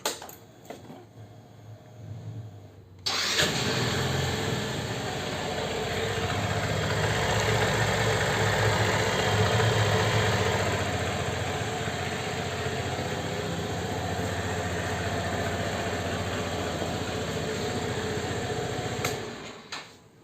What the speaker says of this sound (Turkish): Motorumuzun sesini de bir dinleyelim.